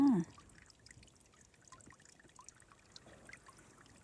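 Stream water trickles and babbles softly and steadily in the background, a faint continuous flow after a brief voice at the start.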